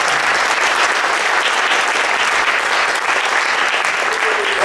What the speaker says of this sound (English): So your applause for them, please.